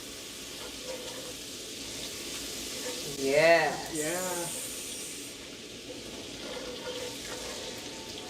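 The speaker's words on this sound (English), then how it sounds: "Starting to sizzle a little bit." Steady crackling sizzle of food frying in a hot pan, with brief voices speaking over it partway through.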